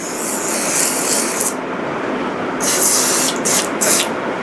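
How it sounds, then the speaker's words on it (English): Several short hissing bursts of a spray bottle spraying cleaner onto a helmet, one longer spray followed by a pause and then a few quick puffs, close by. "You go spray it like this."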